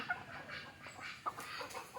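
A native country rooster, resembling a fighting cock, gives soft, faint clucks scattered over a quiet morning backdrop.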